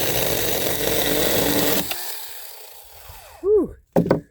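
A Temu mini chainsaw cuts through a tree log, a steady loud buzzing drone for about two seconds that then stops, followed by a few short squeaky sounds.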